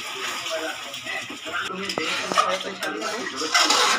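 A spoon stirs chicken korma in a pot, clinking and scraping against the metal with a couple of sharp knocks, close by under a light background of voice and faint sizzle.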